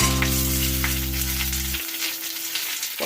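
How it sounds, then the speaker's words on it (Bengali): Pieces of pointed gourd fry in hot oil with a loud, steady sizzle. A low mechanical hum runs under it for the first half and then cuts out. "এবার পটলটা আমি একটু লাল লাল করে ভেজে নেব।"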